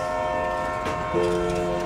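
A train runs at speed with a sustained tonal hum and rumble, a horn-like tone rising partway through, steady and fairly loud.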